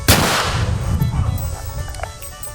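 A single sharp gunshot rings out during an Old West show in an old town. It is loud and near, with a long ringing decay and some faint crowd noise behind it.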